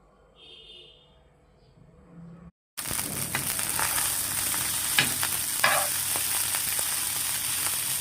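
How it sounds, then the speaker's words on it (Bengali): After a quiet moment and a brief cut, pumpkin sizzles loudly frying in hot oil with a continuous crackling hiss and occasional stirring scrapes. "মিষ্টি কুমড় ভাজা হচ্ছে, এগুলো মিষ্টি কুমড়।"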